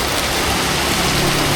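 Heavy rain pours steadily onto a street in Vietnam, a loud, dense, continuous hiss that fills the whole short stretch with no voices over it.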